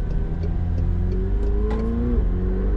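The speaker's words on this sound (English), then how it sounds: "We're gonna accelerate here." A McLaren 720S sports car accelerates hard from the cabin, its engine note rising steadily in pitch as it revs up, loud and continuous, with no talking.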